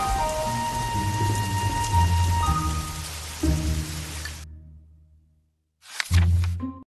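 A rain sound effect for a children's fairy tale, a dense steady hiss of falling rain layered with low tones, fading out to silence and then briefly returning.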